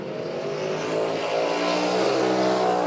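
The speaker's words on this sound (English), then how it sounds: "And as you talked about, DJ, you hear him just spinning those tires, trying to find that grip" Race car at a Mid-Ohio sports car race spinning its tires for grip, a loud sustained engine roar rising in pitch over a few seconds, with no talk over it.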